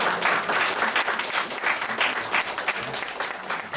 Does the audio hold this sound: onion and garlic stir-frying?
no